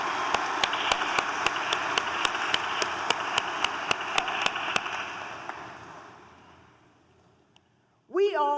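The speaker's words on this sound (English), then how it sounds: "Please give yourself a well-deserved round of applause." Applause from a crowd at a high school commencement ceremony, a dense, steady clatter that fades out over several seconds before a voice begins speaking.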